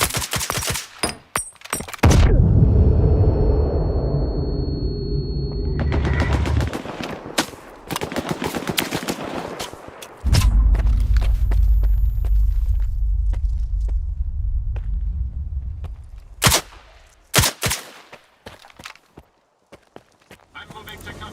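Automatic and single-shot gunfire from the video game S.T.A.L.K.E.R. 2, in loud rapid bursts and sharp cracks that come and go over about twenty seconds, with heavy rumbling stretches and voices at times.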